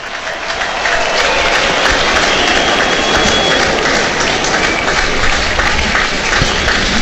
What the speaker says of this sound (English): the crowd rise to applaud another outstanding display by the New Zealand opener